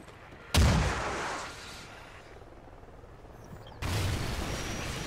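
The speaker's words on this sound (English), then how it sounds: "Guide rockets with laser." Laser-guided rockets fire in Call of Duty: Ghosts, with two loud, sudden launch blasts that each roll off into a long rumbling roar, separated by a quieter wash of battlefield noise.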